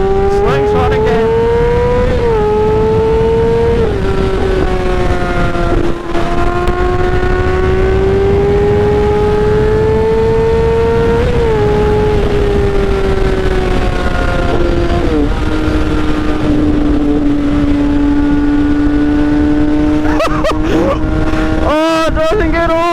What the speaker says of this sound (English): Let me show y'all why I freaking love sport bikes, man.